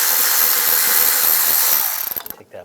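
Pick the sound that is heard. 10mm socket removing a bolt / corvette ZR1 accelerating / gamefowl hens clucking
10mm socket removing a bolt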